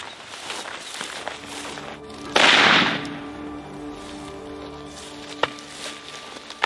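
A single sharp rifle shot fired at a blue wildebeest during a hunt in South Africa, a loud broadband burst lasting under a second against quiet outdoor ambience, followed later by a faint distant crack.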